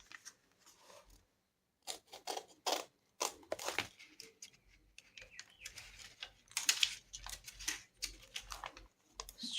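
Scissors cut through a brown paper bag at close range, giving bursts of crisp snipping and paper crunching separated by short pauses.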